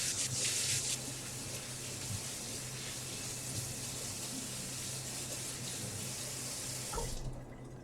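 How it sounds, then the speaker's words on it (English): A steady rush of tap water running into a sink as a metal spoon is rinsed under it, close and continuous, stopping abruptly near the end. "Rinsing off my spoon."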